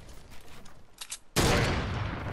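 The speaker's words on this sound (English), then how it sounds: "someone shooting me from this direction" Gunfire in the Fortnite video game starts with a few faint distant shots, then breaks into a loud, sustained burst of rapid firing close by.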